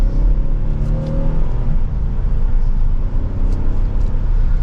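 A 2024 Kia Telluride SX Prestige X-Pro SUV accelerates in manual shift mode, heard from inside the cabin as a steady, moderately loud engine drone and road roar rising under throttle, with no talking.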